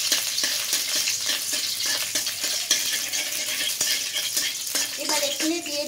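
Chopped garlic sizzles steadily in hot oil in a pan while a spatula stirs it, constant close frying hiss with light scraping and a few clinks, a brief voice near the end.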